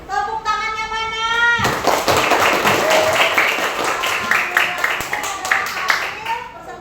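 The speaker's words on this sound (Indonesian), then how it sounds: "Baik, tepuk tangannya mana?" A voice speaks briefly, then a classroom of students bursts into loud, sustained hand clapping that carries on for several seconds in a lively, uneven patter.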